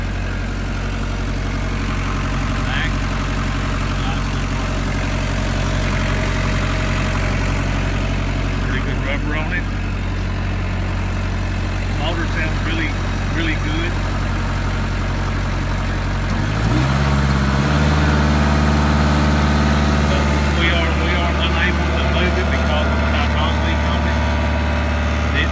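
A New Holland L175 skid steer engine idles close by with a loud, constant low rumble, and its pitch shifts partway through as people talk over it.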